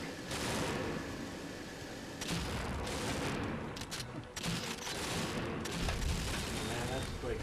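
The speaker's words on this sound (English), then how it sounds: "that's like everyone's shooting at the entrance" Gunfire rattles through a multiplayer match of James Bond 007: Nightfire on the Snow Blind map, with repeated bursts of shots and explosive booms layered densely across the clip while a player talks over the din.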